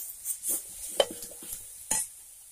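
Kashmiri chilli powder and hot chilli powder being stirred in a pan for a Bengali katla fish kalia: a few quiet scrapes and clinks of a spoon against the pan over a faint sizzle, with no talk.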